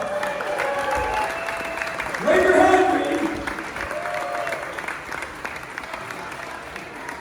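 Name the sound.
crowd applause for Reed Johnson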